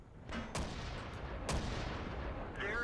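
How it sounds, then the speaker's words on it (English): Tank guns firing in World of Tanks, a few sharp booming shots in quick succession over a low battlefield rumble, fairly faint overall. "You can also hear that the gun sound effects seem to be tweaked."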